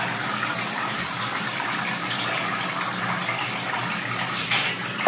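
Water drains steadily from a bathtub with a continuous hissing, gurgling rush that stays even throughout, ending with a brief louder splash near the end.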